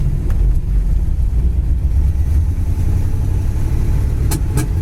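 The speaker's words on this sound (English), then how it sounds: "I'm just gonna let it spit and sputter a little bit and see if we can get it up to highway speed" A 1956 Montclair's engine runs loud and close while driving, a steady rumbling drone with uneven sputtering and a few sharp pops near the end.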